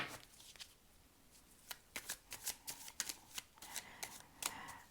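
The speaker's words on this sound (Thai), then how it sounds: "ขอไพ่ไกด์ไลน์สามใบนะคะ" Tarot cards being shuffled by hand for a three-card reading, a run of crisp riffling flutters and sharp papery snaps that grow denser toward the end, close and moderately loud with no talking.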